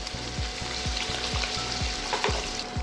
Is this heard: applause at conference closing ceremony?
no